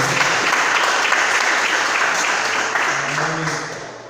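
A church congregation applauds during an evening retreat service, a broad sustained patter of clapping with some speech mixed in, tapering slightly near the end.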